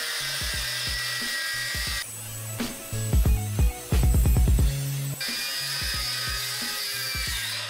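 Angle grinder cutting through the shackle of a U-lock Extreme Mini, a loud continuous grinding whine with shifting pitch, interrupted by bursts of harsh rattling and clattering as the disc bites into the steel.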